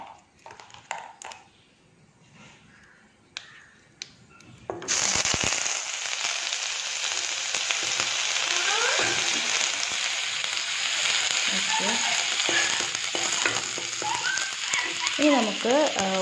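Ginger garlic paste hits hot oil in a pan for a butter paneer curry, bursting into a loud, constant crackling sizzle after a few seconds of quieter clinks and taps.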